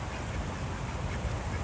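Ducks quack repeatedly against a steady, broadband outdoor background, the calls blending into a continuous noisy bed at moderate distance.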